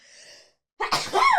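A single person sneezes loudly and close by: a short breathy intake, a brief pause, then a sharp explosive burst that trails off into a voiced tail.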